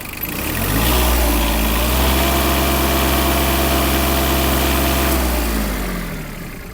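A Yanmar KE-50 mini tractor's three-cylinder diesel engine idles, then revs up and holds at higher speed with a steady loud drone before easing back down near the end; no voices.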